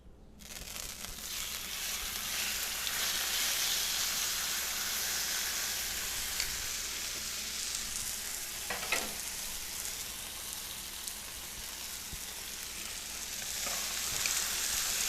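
Steaks sizzle in oil on a griddle heated to about 450 degrees, a loud, steady frying hiss that holds for the whole stretch with a few brief pops, no talking.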